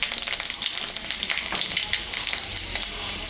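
Dry red chillies and five-spice seeds sizzling in hot oil in a cooking pan, a loud, dense, crackling hiss close by that runs steadily throughout with rapid popping.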